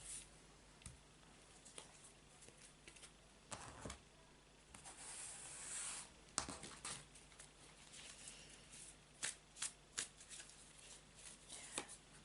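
Soft, close riffling and patter of a tarot deck being shuffled, several quick bursts at low volume with quiet pauses between.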